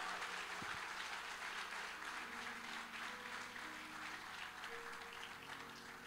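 Church congregation applauding during a Pentecostal-style sermon, a continuous wash of clapping that stays fairly even and moderately distant throughout, with a faint sustained musical tone underneath.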